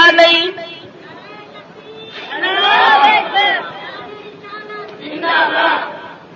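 A crowd at a religious sermon gathering chants slogans in loud unison bursts, swelling twice and falling back between them, with a voice carrying on underneath.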